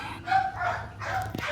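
A dog near an abandoned gas station gives a few quick barks and yips in a short burst, fairly close and moderately loud.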